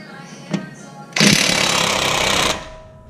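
An impact tool loosens a camber bolt on a car, with one short rattling burst and then a loud, steady hammering buzz lasting over a second before stopping.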